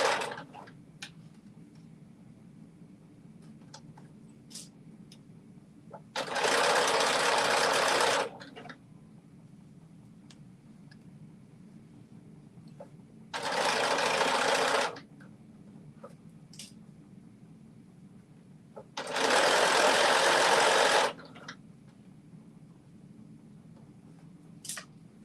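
A sewing machine stitching a McCalls 8555 pattern runs in three separate bursts of steady mechanical whirring, each lasting a couple of seconds, close by. Quiet ticks and handling sounds fill the pauses.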